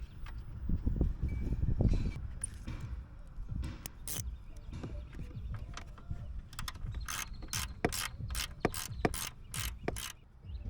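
A ratchet wrench turns a 10 mm battery terminal nut under the hood of a Jeep, giving quick runs of close, crisp clicks over a low background rumble.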